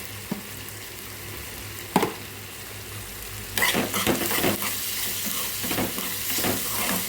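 Vermicelli upma cooks in a pan: a soft continuous sizzle, then a few sharp spatula scrapes and stirring clatters that grow busier near the end, close by, with no talking.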